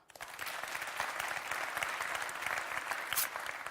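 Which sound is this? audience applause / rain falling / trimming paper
audience applause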